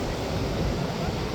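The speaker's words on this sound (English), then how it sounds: "pretty powerful waves there slamming up on" Powerful ocean waves slam against the shore during an evening beach walk, a steady broadband roar of surf and wind that fills the whole clip without a break.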